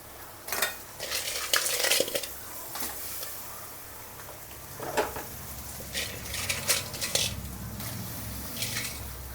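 Crabs are stirred and fried in a pan with masala and golden onions, with a steady sizzle under repeated scraping and clattering strokes of a utensil against the pan.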